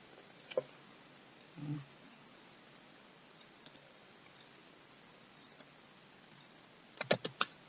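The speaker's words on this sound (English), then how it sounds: "type in cmd" Sparse keystrokes on a computer keyboard in a quiet room, a few isolated clicks early on and a quick burst of several taps at the end, faint and close.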